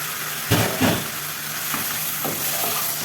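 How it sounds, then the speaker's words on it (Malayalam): Cleaned chicken fries in masala for a Shahi chicken kurma, giving a steady close sizzle broken by two quick stirring clatters near the start. "ഇനി നമുക്ക് ക്ലീനാക്കി വെച്ചിട്ടുള്ള ചിക്കൻ ചേർത്ത് കൊടുക്കാം."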